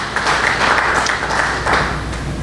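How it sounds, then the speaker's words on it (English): Brief audience applause at a police training exchange session, a dense, even wash of clapping that holds steady for a couple of seconds. "please let's give them a round of applause for that interest that they are taken"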